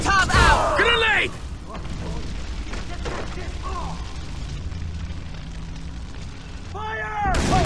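Grenade blast in the Far Cry 3 co-op game, a loud broadband boom at the start followed by lingering rumble and scattered battle noise, with shouting voices over it and another burst at the end.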